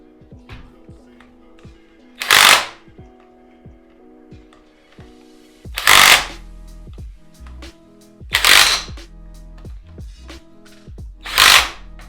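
A torque wrench tightens bolts on a KTM 450 motorcycle, giving four brief, loud bursts of ratcheting spaced a few seconds apart over a quiet background.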